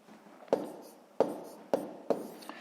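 Numbers being written by hand during a sixth-grade math division exercise, with four sharp pen taps or strokes about half a second apart, each followed by a soft scratchy trail, fairly close and quiet with no talk.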